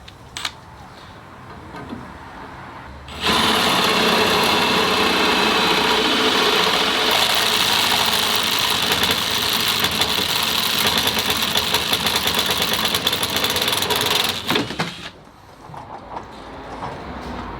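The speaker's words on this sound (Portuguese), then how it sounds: "E já agora passar aqui para uma broca de 8 mm." A Milwaukee M18 FID3 impact driver drilling with an 8 mm bit, a loud, harsh, continuous whirring run of about twelve seconds that starts abruptly and cuts off, with quieter room noise before and after.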